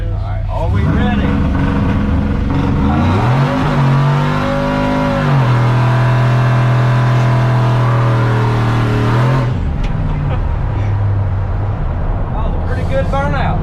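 A Chevy 1500 pickup truck doing a burnout: a loud, close engine revving hard and holding high revs for several seconds before dropping off, with voices around it.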